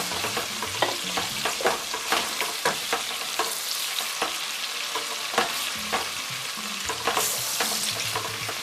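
Onion and dried salted fish fry in palm oil in a pot, giving a continuous close sizzle broken by repeated scraping stirs that come in an uneven rhythm.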